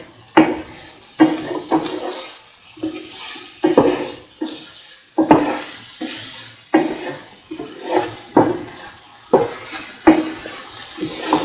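A spoon stirs garam masala into a cottage cheese and capsicum stew in a pan, giving a steady run of close, rhythmic scraping and clinking strokes, roughly one per second, loud and without talk.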